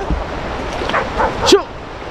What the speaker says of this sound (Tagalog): May aso pala dyan oh, may ligaw na aso.